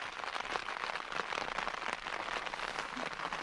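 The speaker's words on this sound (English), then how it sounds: "as you can hear, the rain's still on." Rain patters steadily on a tent during a windy solo wild camp in the Cheviots, a dense close crackle of drops with no talk.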